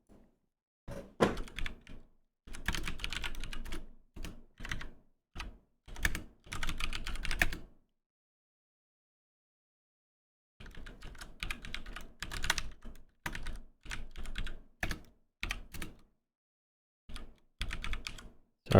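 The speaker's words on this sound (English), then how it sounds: "Sorry for the typing there." Typing on a computer keyboard comes in bursts of rapid key clicks separated by silent pauses, close and fairly crisp, with an occasional heavier thunk of a keystroke.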